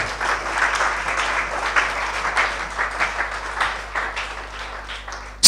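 A church congregation applauding during a service, dense and sustained clapping from many hands that fills the room at a fairly loud level, with no one speaking over it.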